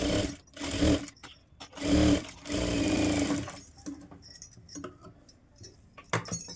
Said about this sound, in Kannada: ಇದನ್ನು ಕೂಡ ಈ ರೀತಿ ಇಟ್ಕೊಂಡು ಸ್ಟಿಚ್ ಮಾಡ್ಕೊಳ್ಳೋಣ.